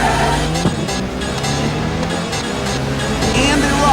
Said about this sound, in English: The cars are screaming past the starting line.